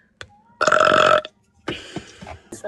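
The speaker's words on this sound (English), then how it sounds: "She burped also." A woman lets out a long, loud burp and then a second, rougher one after a short pause, both close and clear with no talk over them.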